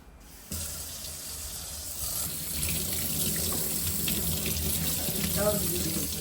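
Water running from a household tap into a container, a steady close splashing stream that starts abruptly and grows slightly fuller as it fills, with faint talk in the background.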